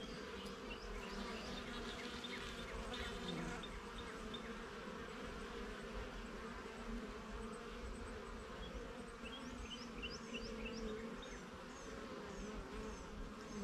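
Honeybees, including drones, buzzing in an opened beehive, a dense steady drone of many wings with individual bees passing close, continuous and without speech.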